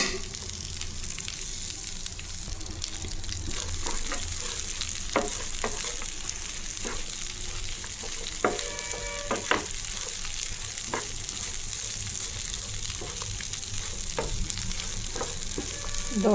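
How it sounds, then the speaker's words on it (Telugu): Raisins, almonds and cashews frying in ghee for rava laddu give a steady close sizzle, with scattered spoon scrapes and clinks against the pan throughout. "ఇప్పుడు ఇందులో కిస్మిస్ బాదం జీడిపప్పు వేసేసుకున్నాను వేసేసుకొని వేయించుకోవాలండి"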